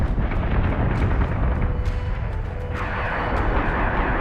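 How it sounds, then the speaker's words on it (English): Starship weapons fire from the video game Battlestar Galactica Deadlock, heard as a loud, continuous barrage of rumbling blasts and bursts that overlap with no break, with sharper cracks scattered on top. "We're taking sustained fire."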